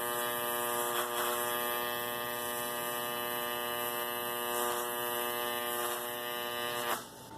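A solid-state Tesla coil running on 120 V mains draws an electrical arc, making a steady, loud, harsh buzzing hum that holds evenly and then drops off near the end.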